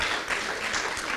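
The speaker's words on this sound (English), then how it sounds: "another round of applause for all of our amazing students and volunteers and community members" Steady applause from an audience of students, volunteers and community members at a literacy council meeting, filling the whole moment with dense, even clapping and no talk.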